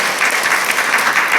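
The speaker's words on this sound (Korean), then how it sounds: "박수 한번 들어주세요." A church congregation applauds during a Sunday worship service, a dense, steady clapping that fills the space loudly and evenly with no voices over it.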